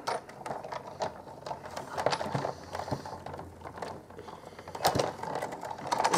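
A paper die-cutting machine cranking a stitched-edge card piece through, giving steady rattling clicks and ratcheting mechanical taps in an irregular rhythm, fairly close and moderately loud.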